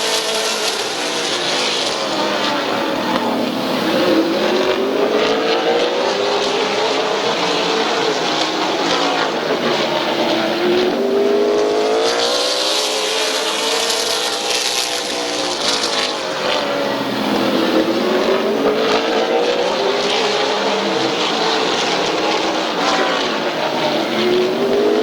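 Race cars roar around the Midvale Speedway oval in a loud, continuous pack, their engine pitch rising and falling in repeated sweeps as they pass by lap after lap.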